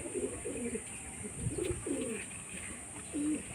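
Madras pigeons from an old home-bred line coo in a few low, throaty bursts spread over a few seconds, close by against a steady background hiss.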